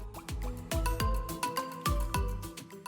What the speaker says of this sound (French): on va incorporer de l'eau jusqu'à obtenir une pâte plutôt compacte